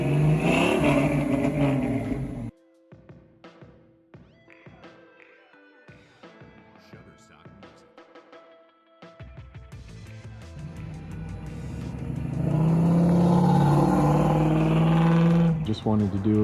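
A 1968 Camaro RS 327 V8 engine rumbles and revs, dropping to quieter clicks and rattles midway before roaring back up loud and close near the end.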